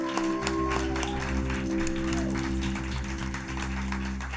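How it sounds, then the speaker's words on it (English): Audience applause at a live musical podcast performance, a broad clapping wash blended with loud sustained music tones that run throughout. "Give yourselves one final round of applause."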